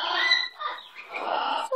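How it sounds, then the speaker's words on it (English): A pet bird gives repeated squawking, clucking calls close by, in several bursts across the short stretch with brief dips between them. "Oh, what a beautiful bird."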